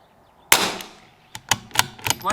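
Five sharp .22LR rifle shots firing Lapua Center X match ammunition, one loud crack first followed after a pause by four quicker reports in uneven succession, each with a short fading tail.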